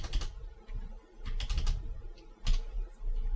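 Numbers typed on a computer keyboard: a few scattered clusters of quick key clicks over a low steady background hum, close and with no talking.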